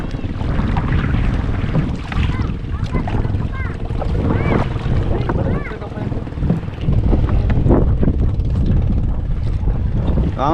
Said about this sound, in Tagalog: Ang bangka.